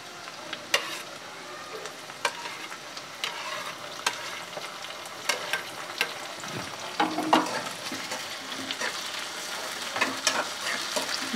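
Dried shrimp hitting a pan of nearly browned onions, a continuous close frying hiss with frequent crackles and spatula clicks, no voices.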